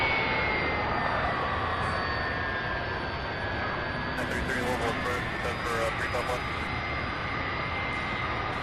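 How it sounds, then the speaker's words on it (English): An Airbus A300-600 jet at Louisville SDF airport gives a steady, loud, continuous engine roar with a slowly shifting whine, sustained throughout without a break. "This aircraft here, 17 years old. First flight was June of 2006. Airbus A300, 600 series."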